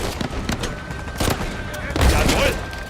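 Bursts of automatic gunfire from Uncharted 4 crackle in dense rapid volleys, loud and close, mixed with other game noise.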